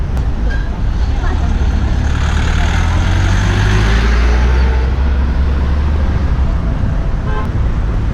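Busy street traffic at a crossing in China, with trucks, cars and electric motorcycles passing close by in a loud, steady roar and a short horn toot rising above the rumble, with voices underneath.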